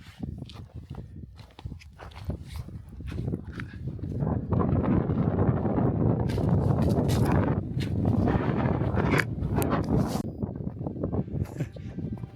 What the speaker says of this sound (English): This wind chill up here is pretty mad.